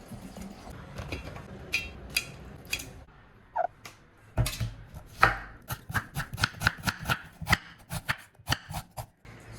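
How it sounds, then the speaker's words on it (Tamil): Shallots and tomatoes cut coarsely with a knife on a board for a South Indian mutton masala, a close run of crisp, uneven chops that speeds into a brisk rhythm. "சின்ன வெங்காயம் அடுத்தது வந்து தக்காளிக்கோ கொஞ்சம் பெருசாக வெட்டி எடுத்துக்கொள்ளணும்"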